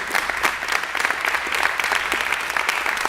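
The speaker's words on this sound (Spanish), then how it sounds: "Yo creo realmente que debemos de darle un aplauso a Odalis y a Ismarí, porque son las dos que se matan aquí." A church congregation applauds with a dense, even wash of clapping hands that holds steady at moderate loudness for a few seconds, with no talk over it.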